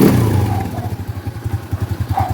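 A 15-year-old Kawasaki Fury 125 motorcycle engine runs up close, with a brief throttle rev at the start settling into a steady, low, rhythmic thumping idle.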